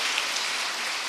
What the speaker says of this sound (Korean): 박수를 쳐주실지 몰랐는데요.